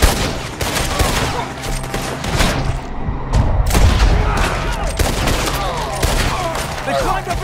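Dense, rapid gunfire rattles through a firefight in the video game Red Dead Redemption 2, with overlapping close shots and heavy thumps, plus a deep boom midway and shouting voices mixed in.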